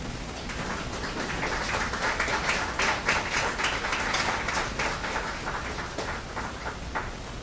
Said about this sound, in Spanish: Hay que sentir un aplauso